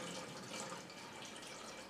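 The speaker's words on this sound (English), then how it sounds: "I'm going to fill up my air still to the full mark" Steady broadband rush of plain water pouring into an air still, continuous and close, with no pauses or voices.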